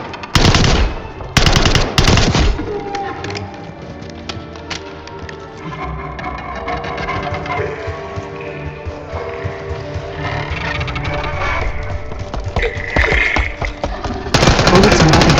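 Automatic weapon fire in the Call of Duty Black Ops 6 zombie mission, loud bursts opening and closing the stretch, with quieter rattling shots and game effects running underneath.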